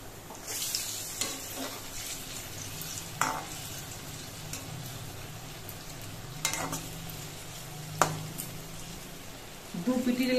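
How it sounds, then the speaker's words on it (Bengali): Taal bora, palm fritters, fry in hot oil with a soft, steady sizzle, broken by a few sharp clinks and scrapes of a utensil as the fritters are turned. "বড়াগুলো আস্তে জাল দিয়ে কিছুক্ষণ ভেজে নিতে হবে, তারপর বড়াগুলোকে উল্টে দিতে হবে।"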